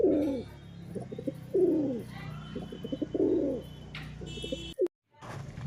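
Several pigeons, a domestic Giribaj line of Bengali pigeons kept at a house for sale, coo in soft repeated rolling phrases close by, with a brief clatter and short gap near the end.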